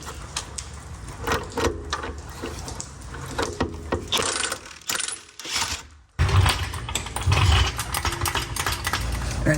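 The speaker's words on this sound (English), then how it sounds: "we're gonna have to undo these bolts holding the differential to the PPF" A ratchet works loose the 17 mm bolts that hold the differential to the PPF on a Miata, heard as loud, close, rapid clicking and metallic rattles with short pauses and a sudden clunk partway through.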